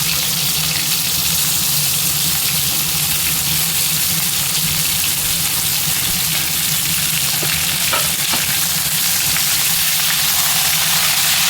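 Chopped ivy gourd frying in a pan of oil already tempered with mustard seeds, cumin and curry leaves: a loud, continuous close sizzle with stirring scrapes, and no voices.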